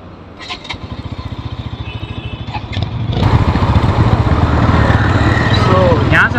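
A motorcycle engine idles in a low, pulsing rhythm, then revs up and rumbles loudly as the bike sets off on a ride toward Dow Hill in Kurseong. Wind noise and a voice sit faintly underneath.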